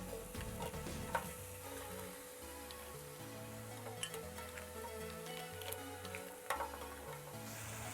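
Red claw crayfish placed flesh side down in a frying pan with chilli and garlic give a steady, close sizzle with soft crackles and faint ticks, and no one speaks.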